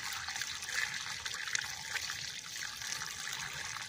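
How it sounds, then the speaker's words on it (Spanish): Water is poured onto watermelon seedlings in a field, making a faint, continuous trickling splash that stays steady for a few seconds. "ahí va el agüita para las matitas de sandía"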